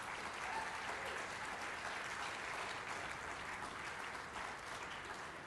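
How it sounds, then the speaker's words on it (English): Sustained applause from a crowd at the LFF Awards Show 2014, dense steady clapping filling the whole stretch without a break. "Give them another big round of applause."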